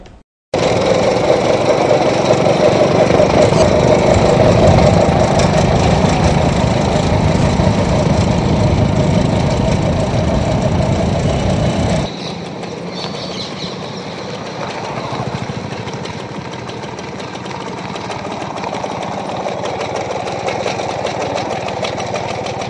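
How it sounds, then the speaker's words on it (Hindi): Petrol engine from a two-wheeler fitted to a homemade vehicle, running steadily and loud throughout, then dropping to a quieter, lower idle partway through. "इस वाहन का इंजन 2 व्हीलर का है और पेट्रोल से चलता है।"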